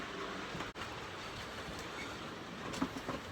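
An OO gauge model train fitted with Kadee couplers is handled on a layout track, producing a steady low rattle and rumble with a sharp click partway through and small knocks near the end.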